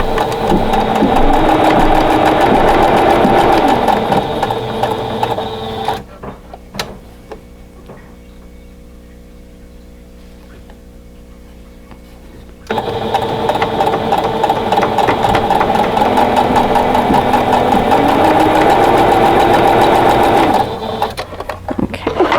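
A sewing machine runs steadily, stitching a quilt ribbon block unit together, then pauses for several seconds in near quiet before starting again and sewing on at a steady, close, loud whir.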